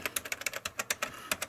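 Keys on a ZX Spectrum computer keyboard are pressed in a quick, uneven run of sharp plastic clicks, about a dozen taps close to the mic with no voices.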